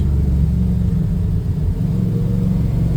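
A 1969 Camaro Super Sport engine held in first gear gives a loud, steady low rumble close by, a sustained deep drone with slight swells and no voices.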